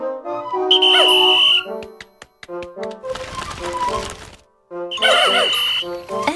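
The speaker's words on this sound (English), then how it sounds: "Blow your whistle." Whistle blown in the video game Pikmin 4: two bright, rising whistle bursts separated by chimes, plinks and a swell of busy in-game effects, loud and clear with no talking.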